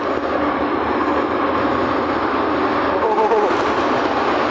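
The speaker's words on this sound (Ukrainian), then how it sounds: "ми тепер зараз в метро" Kyiv metro train running underground, a steady loud rumble and roar of wheels and motor filling the car throughout, with some faint voices in the background.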